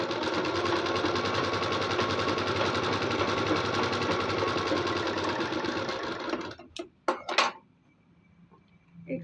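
A sewing machine runs a line of stitching along a kurta sleeve edge over lining, whirring steadily and close for about six seconds before stopping, followed by a few brief handling clicks and taps.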